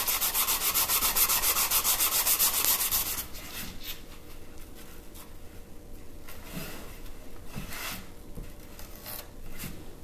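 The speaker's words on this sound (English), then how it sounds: "we're just sanding off the edges" Rapid scratchy rubbing of sandpaper on the edges of a decoupage box, fast and strong for the first three seconds, then lighter, slower sanding strokes continuing close by.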